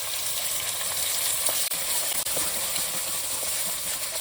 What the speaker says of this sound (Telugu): అల్లం వేగింది. ఇప్పుడు కొంచెం మటన్ వేసుకున్నాం.